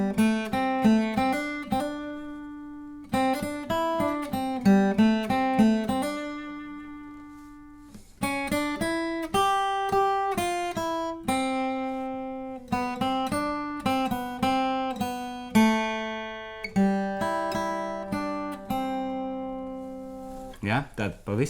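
Simple fingerstyle guitar melody, plucked notes ringing out clearly in a steady, unhurried line with short gaps between phrases, played alone and close with no talk.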